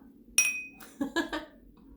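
Glasses clink together in a toast, with one bright ringing clink followed by a quicker pair of lighter clinks, close by and clear against a quiet background.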